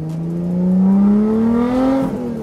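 A Lotus Exige 430 Cup with a titanium exhaust revs hard, its engine pitch climbing smoothly in one loud sustained pull before dropping off, close and alone without talk.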